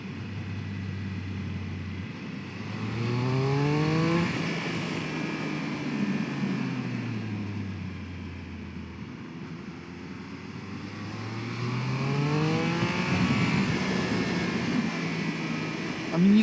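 A 2021 Triumph Speed Triple 1200 RS motorcycle accelerates twice through rising gears, its exhaust note climbing in pitch and swelling louder before easing off, with wind rush throughout.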